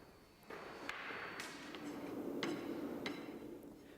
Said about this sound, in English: The last compaction of the sand in the drag is carried out using a flat rammer.